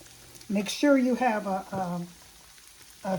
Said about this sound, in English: I'm gonna let it brown for about 4 minutes on each side and turn it over